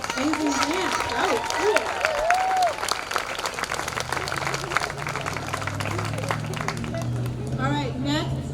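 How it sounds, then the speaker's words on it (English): An outdoor Juneteenth celebration crowd applauds after a dance performance, steady clapping and cheering under excited voices and whoops, thinning into crowd chatter as a person speaks over it. "Another round of applause for that amazing dance."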